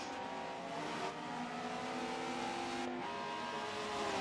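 Race cars in an 80s racing video game endurance race drone on steadily at a moderate distance, with engine tones that rise and shift as the cars accelerate, and nobody speaks.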